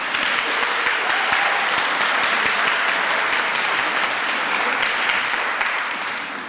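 Sustained, loud applause from a large audience at a preaching prize competition, dense clapping filling the whole stretch without pause and tapering slightly at the end.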